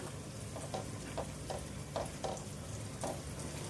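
Cooked lentils and amaranth greens being stirred into a boiling pot, a soft bubbling sizzle under a series of regular spoon scrapes, close and steady with no talk.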